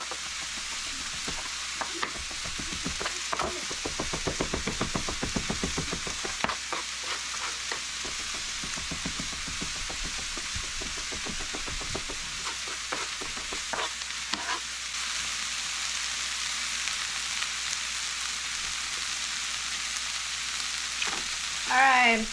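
Garlic sizzles and fries in garlic oil in a pan, a steady crackling hiss with bursts of stirring and spattering throughout, no voices over it.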